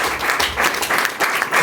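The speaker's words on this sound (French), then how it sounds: "Je vous prie de l'applaudir encore fortement" Short burst of audience applause at a business open-day gathering, a quick run of close, loud claps with uneven pulses.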